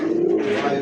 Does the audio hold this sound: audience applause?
no